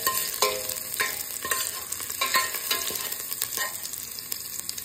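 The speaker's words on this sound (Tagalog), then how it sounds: "Nagpainit na tayo ng mantika. Nilagay na natin yung bawang." Garlic frying in hot oil, heard as a close, continuous crackling sizzle with irregular pops and spatters, with no talking.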